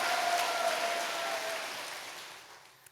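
A hall audience at a Korean religious retreat lecture claps together in a dense, steady wash of applause that gradually fades away over a few seconds, with no voices over it.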